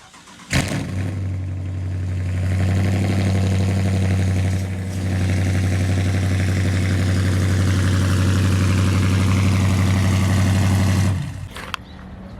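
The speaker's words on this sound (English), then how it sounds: "let's go ahead and give the cold start right away" A Dodge Charger RT with a 5.7 V8, long-tube headers and straight pipe fires up from cold with a sharp start, then holds a loud, steady, deep idle for about ten seconds before cutting off.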